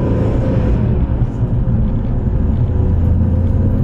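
BMW E46 330i with an M50 intake swap, ICV delete, N52 big bore throttle body and low power around 1500 to 2000 RPM, a loud steady low engine drone and road rumble from inside the moving car.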